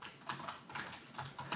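Quick bursts of key clicks from someone typing a query on a computer keyboard, quiet and close, with short pauses between clusters of keystrokes.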